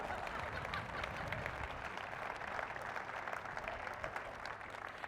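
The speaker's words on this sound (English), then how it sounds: "well, if you're going to keep clapping" Steady applause from an audience at a county State of the County address, many hands clapping in a continuous, even patter heard at a moderate distance, without talk over it.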